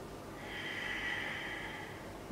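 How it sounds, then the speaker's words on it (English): Two slow, deep breaths during an aerial yoga core class, a soft breathy rush rising and easing, quiet and close with no talk over it. "Two deep breaths."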